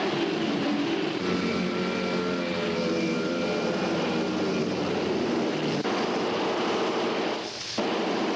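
A swarm of old propeller airplanes drones loudly and steadily around King Kong in a 1933 film scene, the engine roar filling the whole stretch before dipping briefly near the end.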